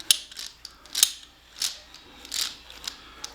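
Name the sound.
old finger-type oil filter removing tool being handled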